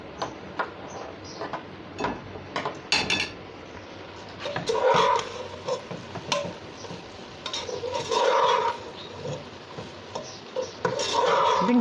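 Metal utensil stirring and scraping fried okra with masala in a pan for an achari bhindi dish, with repeated clinks and scrapes throughout, fairly close and steady, with no talking.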